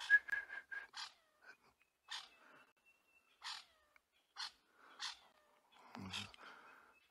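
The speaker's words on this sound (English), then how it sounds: "I don't know if anybody can hear that other bird in the background" Orange-breasted bushshrike calling faintly in the African bush, a series of short clear whistled notes repeated at irregular intervals, with a low rumble near the end.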